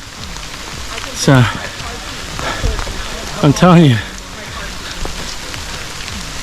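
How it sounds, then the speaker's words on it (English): Rain falls steadily with a constant hiss on a hiking trail while a person talks briefly over it. "And of course, it's raining again."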